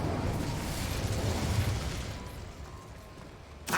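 Incendio fire spell cast in the video game Hogwarts Legacy: a loud, roaring whoosh of flame that fades over a few seconds, ending with a sharp burst.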